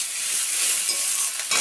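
Spiced water and green chilies hit potatoes frying in a pan, bringing a loud, steady hissing sizzle up close, with a brief stir or scrape near the end and no talking.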